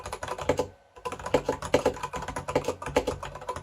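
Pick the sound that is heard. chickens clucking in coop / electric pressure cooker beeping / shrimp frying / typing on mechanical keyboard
typing on mechanical keyboard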